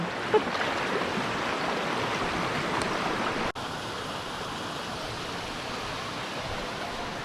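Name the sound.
river running near a hot spring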